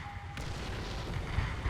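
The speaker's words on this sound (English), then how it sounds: "as soon as I get a round loaded, I'm going to take a shot and see if I can disable his cannon again" An M26 Pershing tank cannon in War Thunder fires with a sharp crack, followed by low rumbling and a couple of deep thuds, fairly close with no speech.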